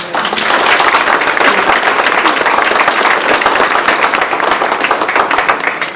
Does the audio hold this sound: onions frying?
no